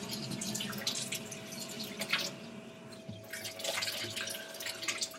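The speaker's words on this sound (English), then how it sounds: "So I'm going to rinse this out." Water running and splashing as a container is rinsed out at a tap during a kitchen science demonstration, with irregular splashes and drips over a steady faint flow.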